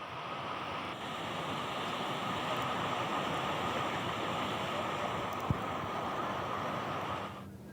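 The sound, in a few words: rushing water of flooded rivers and streams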